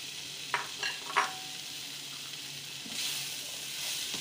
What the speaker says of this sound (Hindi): और इन सबको मिक्स करेंगे।